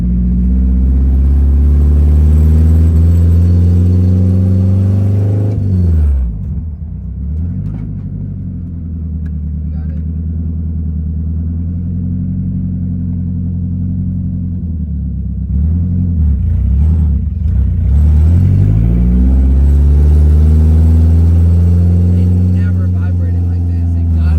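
A Nissan S14 drift car engine idles with a deep, steady exhaust rumble, dipping briefly twice as the revs settle, running throughout at close range.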